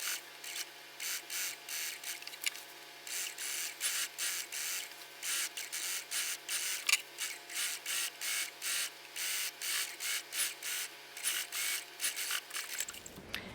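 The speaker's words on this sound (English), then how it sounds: "I'm going to edge stitch along my bias." A sewing machine edge stitching along a bias facing, running in a steady rhythmic whir of repeated short bursts with brief pauses, close and fairly loud, stopping near the end.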